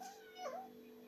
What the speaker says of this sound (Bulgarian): Ето и моето коте